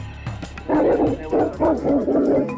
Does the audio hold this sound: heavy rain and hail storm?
no